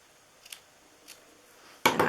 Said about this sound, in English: I'm just going to cut it small.